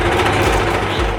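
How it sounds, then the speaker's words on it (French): A serger stitches together the sleeves of a denim jacket, a loud, continuous, rapid mechanical buzz running steadily throughout the short stretch, no voices. "Et maintenant je vais passer un petit coup de surjeteuse pour les assembler."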